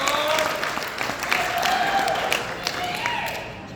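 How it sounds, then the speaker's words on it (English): Applause fills the room at a military battalion ball, a lively spread of clapping hands that rises and dips slightly, with scattered voices and cheers audible beneath it. "let's give yourselves a round of applause"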